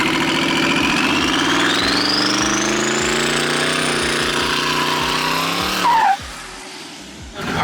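Twin-turbo LS-swapped Fox-body Mustang pulling away hard at full boost, a loud rising engine howl climbing steadily through the gear for about six seconds, then abruptly backing off to a rumbling idle with a brief chirp.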